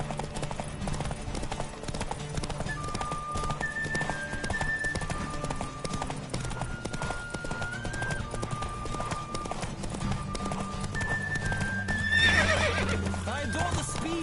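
A horse gallops in a race in The Witcher video game, with continuous fast hoofbeats, repeated neighing and whinnies, and background music.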